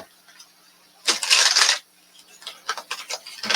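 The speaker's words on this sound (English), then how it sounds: "Let me go ahead and shuffle these." Tarot cards are riffled and shuffled close by, first in one dense burst, then in quick short flicks after a brief pause.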